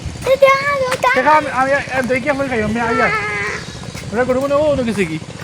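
Several goats bleat in quick succession, loud and close, with wavering cries running together over a few seconds.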